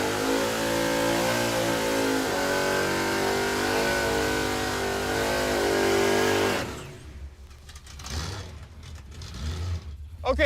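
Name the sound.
Chevrolet Impala drag car launching down the track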